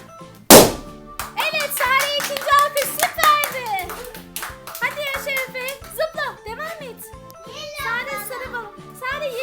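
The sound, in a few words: clapping during a children's balloon-popping game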